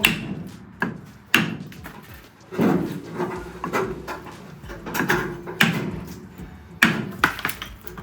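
Sharp metallic hammer blows ring out at irregular intervals, about eight strikes, on a heated, stuck part of a Porsche under restoration, with shuffling and clanking between them in a small, close space.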